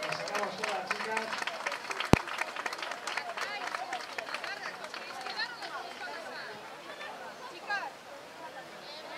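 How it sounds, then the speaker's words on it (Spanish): Scattered clapping and crowd chatter at an outdoor cross-country race in Larraga, Navarra, steady across the clip with people talking and calling out over it, plus one sharp loud bang near the start. "Un aplauso."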